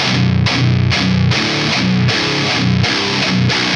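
Heavy, distorted electric guitar chugging out tight palm-muted metal riffs in short repeated bursts, loud and gritty with a very dirty modern metal tone, with no voices.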